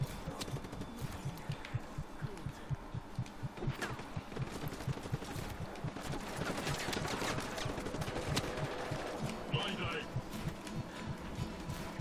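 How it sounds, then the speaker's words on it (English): Rapid bursts of automatic gunfire shooting at enemies in Just Cause 3, rattling fast and steady under game noise with someone talking over it. "We can, of course, just shoot them,"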